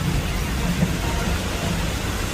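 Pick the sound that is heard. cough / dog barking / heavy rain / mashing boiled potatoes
heavy rain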